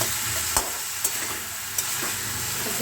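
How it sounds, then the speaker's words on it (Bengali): Fish frying in oil with spice paste, a steady close sizzle broken by a few sharp scrapes of stirring. "এবার মাছগুলোকে দিয়ে আমি একটু কষিয়ে নেব"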